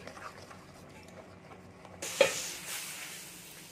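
Dosa batter being stirred in a bowl, a soft steady scraping and swishing with a brighter wet slosh midway, close and fairly quiet with no talk.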